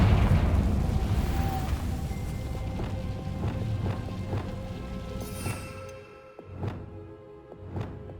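A fiery Confringo spell blasts in Hogwarts Legacy, opening with a loud rumbling explosion that decays into crackling debris, followed by several sharp, separate bursts and pops toward the end, without speech.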